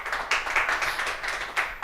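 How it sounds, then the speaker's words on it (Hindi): An audience claps at a music gathering in Dehradun, a steady patter of hands with a few sharper bursts, moderately loud and without talk. "एक बार जोरदार तालियां होनी चाहिए।"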